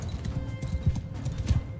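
Horse archers' mounts move across a large battlefield in Mount & Blade 2: Bannerlord, giving soft, uneven clip-clop hoofbeats over a low background rumble, with no talking.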